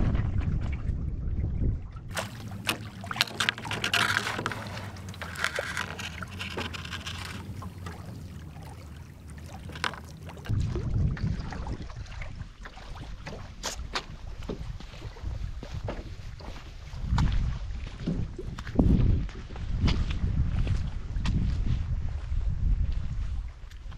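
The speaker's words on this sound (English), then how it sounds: "So it's pretty windy." Wind gusts across a wilderness lakeside campsite, a loud rumbling buffeting that rises and falls over the whole stretch, with a steadier whooshing spell early on and no voices.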